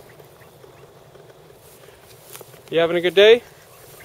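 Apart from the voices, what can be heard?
ducks quacking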